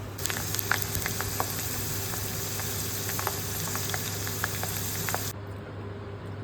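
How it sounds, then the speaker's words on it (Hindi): Sliced potatoes fry in hot oil in a pan, a continuous dense crackling sizzle with scattered small pops, heard close and steady before the sound drops away abruptly near the end. "ये मैं सिंपल आलू फ्राई कर रही हूँ"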